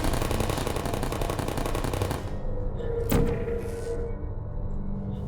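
Turrets in Portal fire a fast, dense rattle of gunshots for about two seconds, then the burst stops and a single sharp crack follows, with a faint tone hanging after it.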